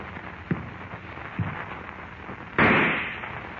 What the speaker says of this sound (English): Suddenly, the rifle in Harmon's hands thunders its message of death